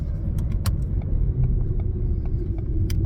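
Ford Fiesta car driving on the road, with a steady low engine and tyre rumble heard from inside the cabin and a few faint light rattles or clicks over it.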